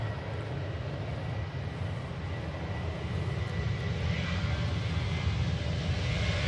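A TUI airliner takes off, its engines producing a loud, steady, broadband roar with heavy low rumble that holds throughout and swells slightly toward the end.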